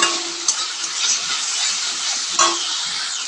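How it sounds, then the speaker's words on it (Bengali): A spice paste with salt, turmeric and ground dried chilli fries in a pan, giving a steady, bright sizzling hiss with two brief louder spits. "সব কিছু দিয়ে মশলাটা আমি একটু কষিয়ে নেব।"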